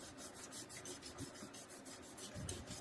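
Wet cloth scrubbed vigorously over wood stove glass, a steady rhythmic rubbing with repeated soft strokes at close range, fairly quiet and with no voices.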